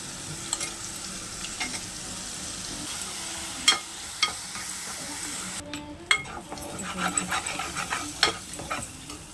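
Whole spices, coconut, ginger, garlic and cashews frying in oil, a soft continuous sizzle broken by scraping stirs and occasional clinks of a utensil against the pan.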